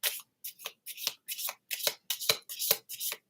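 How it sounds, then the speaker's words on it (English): A deck of tarot cards is shuffled by hand in a quick, even run of about nine riffling bursts, close and crisp with short gaps between them and no talk. "All right, I'm shuffling them up for you."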